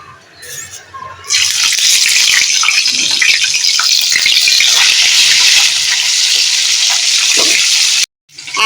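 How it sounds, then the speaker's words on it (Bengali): A fish head frying in white or mustard oil sizzles loudly and steadily for several seconds, the hiss starting abruptly after a quieter moment and cutting off near the end. "মাছের মুড়োটা ভাজার জন্য দিয়ে দিয়েছি"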